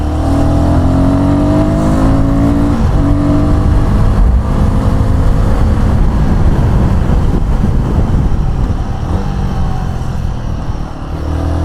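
A Royal Enfield Guerrilla 450 roadster motorcycle is ridden over a suspension test, its engine droning steadily and loudly throughout beneath heavy wind buffeting.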